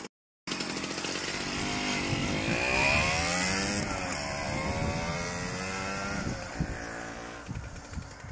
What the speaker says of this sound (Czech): Ten volnoběh to má fakt krásný s tímhle tím karburátorem.